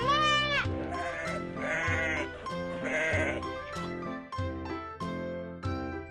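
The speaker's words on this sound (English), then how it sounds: "Sheep." A sheep bleats repeatedly in loud, wavering calls, several bleats in quick succession close to the microphone, with no talking.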